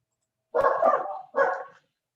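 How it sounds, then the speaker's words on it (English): Excited pet dogs bark indoors, two close, loud barks in quick succession with no talking. "You can hear my dogs barking in the background."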